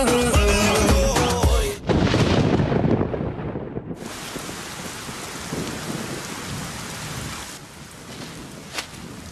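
Steady heavy rain pours down with deep rumbling thunder rolling through, a sharp crack near the start, then continuous downpour with a brief pop near the end, in a movie scene.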